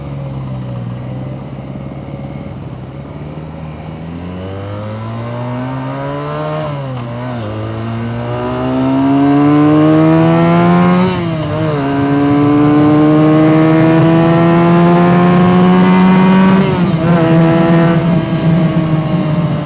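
A Benelli TNT 250 motorcycle is being ridden on the road. Its engine revs rise through the gears in a series of sweeping climbs, each one dipping back briefly at a shift. The loud, close engine note runs on its own without any voices.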